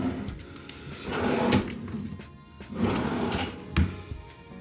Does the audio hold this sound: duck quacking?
no